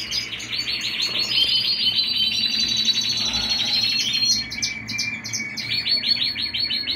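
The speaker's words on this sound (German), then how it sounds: "Das sind meine Absetzkäfige für die Vögel, für die Jungvögel." Young canaries chirping in weaning cages in a breeding room, a busy overlapping chorus of high tweets and trills throughout, close and fairly loud.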